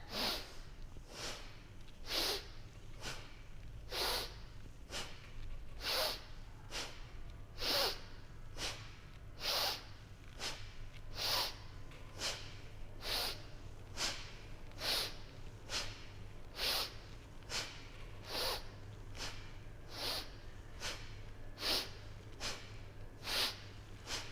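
Sharp, forceful breaths repeat at a fast, even rhythm through a vigorous breathing exercise in a movement session. Each quick, close burst is followed by a short pause, and the pattern holds steady and alone.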